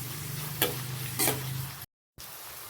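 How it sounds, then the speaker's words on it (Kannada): Noodle ingredients frying in oil over a high flame, a steady hiss with two louder bursts of stirring, then a short cut to silence before the sizzle resumes. "ಚೆನ್ನಾಗಿ ಫ್ರೈ ಆಗಬೇಕಂದ್ರೆ ಸ್ವಲ್ಪ ಜೋರೂರಿನ ಕೊಡಬೇಕು, ಆವಾಗ ಚೆನ್ನಾಗಿ ಫ್ರೈ ಆಗುತ್ತೆ"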